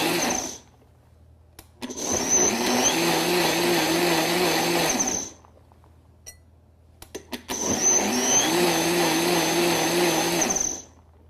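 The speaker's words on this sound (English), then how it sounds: "Over to my Vitamix Bar Boss Advance. I'm going to pulse this until it's almost smooth" A Vitamix Bar Boss Advance blender pulses lemons in two loud bursts of whirring motor noise, each lasting a few seconds, separated by a quiet pause with a few small clicks and knocks.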